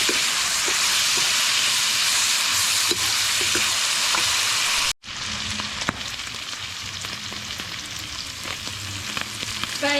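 Garlic and shallots stir-fry in a hot pan with a dense, loud hiss that runs on, broken by one abrupt momentary drop before the sizzle resumes, with occasional scraping clicks.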